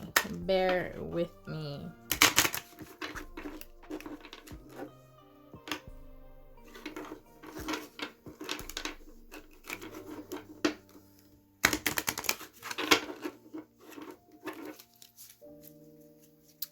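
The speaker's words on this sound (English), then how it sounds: "I'm gonna try to shuffle these again, but we don't have that many cards in here" Bursts of riffling, flapping tarot card shuffles from a small deck come in several short runs, with soft handling clatter and pauses between them, close to the microphone.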